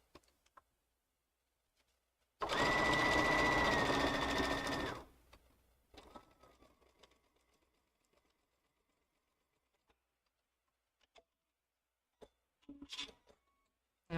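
Sewing machine stitching a quarter-inch quilt seam, one loud continuous run of about two and a half seconds, followed by quieter handling clicks and rustles.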